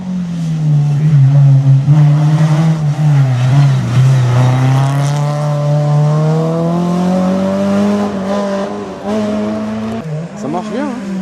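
Race car engine at a French hill climb in Quettreville, 2017, holding a loud, steady near drone with slowly shifting pitch, revving up toward the end, as voices talk over it throughout.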